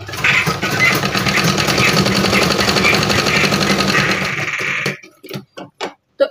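A sewing machine stitching red and white bedsheet fabric pieces together runs in a fast, steady close whir for about five seconds, then stops, followed by a few short clicks and handling sounds.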